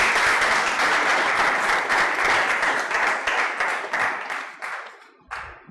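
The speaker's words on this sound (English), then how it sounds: "So let us give an applause to Prabhu for his wonderful presentation" An audience claps for a presenter after a talk at a devotional gathering. The applause is steady and dense for about four seconds, then thins into scattered claps and fades out.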